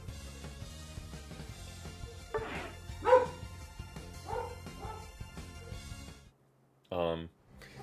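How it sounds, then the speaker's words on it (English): Neighbors' dogs barking outside in scattered, muffled bursts, faint under background music, with a louder bark near the end. "Some neighbors' dogs are going nuts outside."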